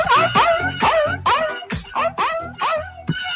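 A performer at a village comedy show imitates a dog with his voice. He gives about seven loud, close, whining barks and yelps in quick succession.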